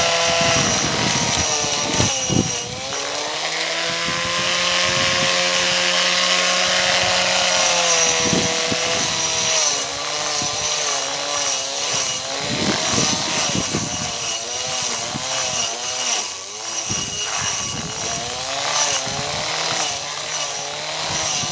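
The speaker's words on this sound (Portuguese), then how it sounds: "cortador de grama aqui" A loud lawn mower motor drones continuously with a rising and falling pitch as it labors cutting grass, close by, with no talking.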